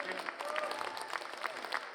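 Audience applause at the 49th Hong Kong International Film Festival opening ceremony, a steady, fairly faint wash of many hands clapping with a murmur of crowd voices.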